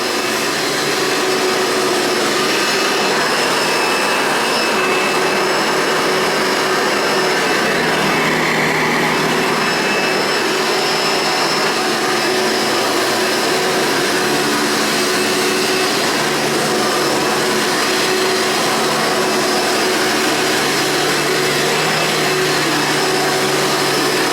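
A $9.00 thrift shop Hoover vacuum cleaner running steadily, its loud motor whine and airflow roar continuous and unchanging throughout, with no talking.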